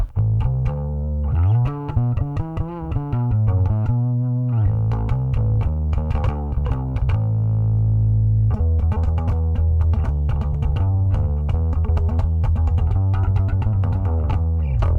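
Bass guitar played through a JOYO BanTamP bass head with gain and compression turned up, gritty compressed tone, sustained notes and picked runs, loud and close with no talking.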